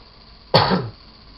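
One short, harsh cough, close to the microphone and loud, rising suddenly from a quiet background hum and then fading quickly.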